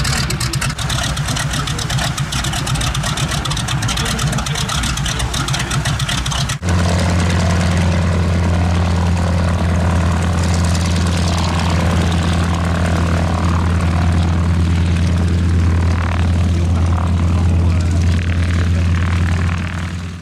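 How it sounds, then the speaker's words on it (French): A T-6 propeller aircraft takes off at an air show, its engine roaring loud and constant, jumping to a heavier throbbing drone partway through as it powers up, with talk heard over it. "Voilà, c'est parti le T6 au décollage."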